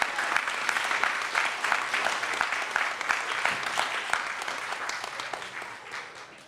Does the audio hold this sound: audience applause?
yes